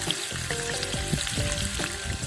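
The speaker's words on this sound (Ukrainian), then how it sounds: "Вся краса зараз відправиться на сковорідочку." Pieces of pork belly sizzling as they fry in a pan, a lively crackling and spitting with bubbling pops throughout, close and steady with no talking.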